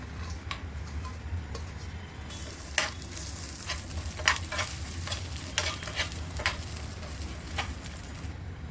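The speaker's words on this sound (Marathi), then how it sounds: "पाच सहा काजू पाच सहा बदाम पाच सहा पिस्त आहेत तीन वेलची थोडं थोडं भाजून घेऊया" Cashews, almonds, pistachios and cardamom being dry-roasted in a pan, with repeated close scraping and stirring clicks of a spoon over a faint sizzle.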